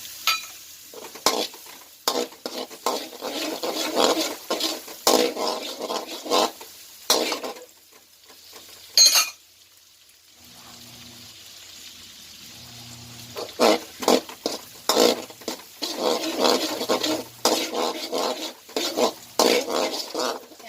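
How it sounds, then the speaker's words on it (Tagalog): Sliced red onion sizzles and fries in a pan while it browns, with loud crackling and repeated stirring scrapes close by, a brief quieter pause midway, and no voices. "Hintayin lang muna natin guys na mag golden brown ang ating onion"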